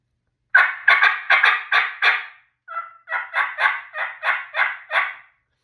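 A wild turkey gobbles twice in loud, rapid rattling bursts, each a string of quick throaty notes, clear and close against silence with a brief pause between them.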